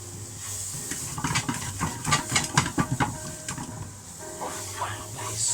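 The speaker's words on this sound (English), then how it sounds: "Now I want to give all these flavours a mix up." Spicy chilli dog sauce with oregano sizzles in a pan while being stirred and mixed, making a busy run of scraping and clicking noises over a constant hiss that eases off near the end.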